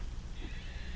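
Steady rain of a thunderstorm in the survival video game 7 Days To Die, a continuous dense hiss of falling drops with a low rumbling undertone, with no talk.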